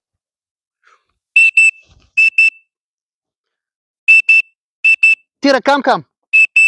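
Dog training whistle used to teach recall to a puppy named Tira: five pairs of short, sharp, high-pitched pips sound close and loud, spaced apart, with a voice calling briefly between them.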